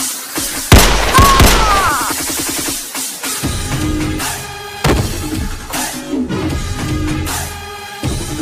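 Gunshots fired on command in a comedic police skit, a sharp loud bang followed by a ragged volley of cracks and booms spread over several seconds, with clattering echoes between shots.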